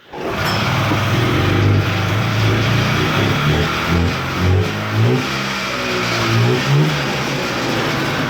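A 1986 Polaris Indy Trail 440 snowmobile engine catches right at the start, then idles loud and close with a rough, buzzing two-stroke note, rising and falling in several short revs.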